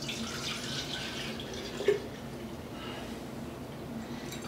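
Tap water runs steadily into a quart measuring jar for a mushroom tincture preparation, a continuous soft hiss and splash with one brief clink partway through, close and fairly quiet.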